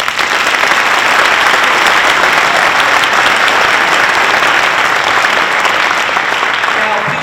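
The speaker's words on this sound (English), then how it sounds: "You may join me in applauding." An audience at a county government event applauds with loud, sustained, even clapping that fills the whole stretch without a break.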